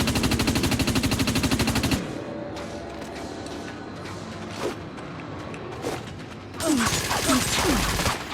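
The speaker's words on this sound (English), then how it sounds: "it's a single fire weapon that every time you pull the trigger, puts out 3 rounds." Rapid automatic gunfire from a 3-round burst weapon in the video game Dust 514, a fast loud rattle at the start, then quieter mechanical clicks and scattered shots before another loud burst of fire.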